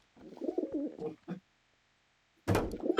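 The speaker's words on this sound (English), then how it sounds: "that achievement in GTA 4 where you hunt all the pigeons down in Liberty City" Pigeons coo in Liberty City in the video game GTA 4, a short murmuring call that stands out clearly under nearby speech, followed by a loud burst of sound.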